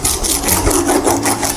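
A floor sander grinds steadily across a fir wood floor, a loud continuous rasping with a faint rhythmic surge as the machine moves, no voices present.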